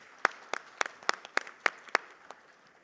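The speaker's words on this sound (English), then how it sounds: "I think that deserves a round of applause, ladies and gentlemen" A handful of sharp, separate claps sound at a steady pace, fairly faint and sparse, more a scattered few hands than a full ovation.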